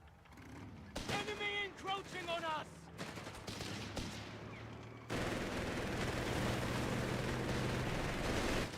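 Machine-gun fire, including a Vickers, rattles in a World War II strategy video game battle. A voice talks over the early bursts, then dense, continuous firing swells louder and fills the second half.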